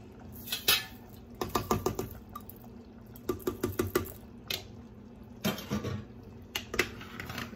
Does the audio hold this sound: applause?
no